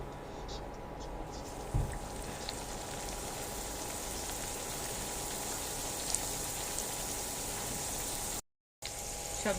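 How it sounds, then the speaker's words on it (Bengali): Mughlai paratha fries in hot oil, giving an even, continuous crackling sizzle that runs throughout, with a brief gap near the end. "সবগুলো তাহলে আমি এভাবে লাল করে ভেজে নিচ্ছি।"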